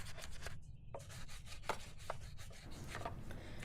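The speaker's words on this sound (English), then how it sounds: "I also use the brush for the brake calipers." A detailing brush scrubs motorcycle brake calipers during a wash, giving a quiet, continuous bristly rubbing with short repeated strokes and no voices.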